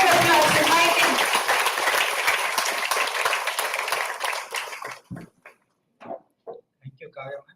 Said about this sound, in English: With a big round of applause, inviting.